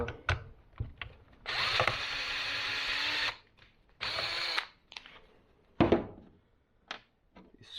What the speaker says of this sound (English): These screws gotta go in.